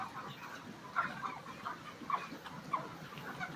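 Chickens cluck and murmur in a crowded poultry farm shed in intense heat, with a few louder calls popping out over a constant low hum of birds.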